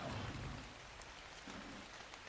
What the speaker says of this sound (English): there's a lot of rain for being in the middle of the desert